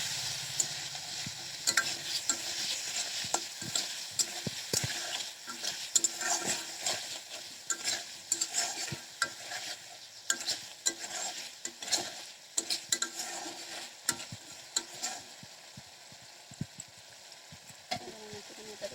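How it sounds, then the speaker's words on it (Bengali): Spices and a splash of water being stir-fried in a pan, the spatula scraping and tapping steadily over a soft sizzle with many small clinks, fairly quiet and without talk. "একটুখানি এটাকে সুন্দর করে কষিয়ে নেবো।"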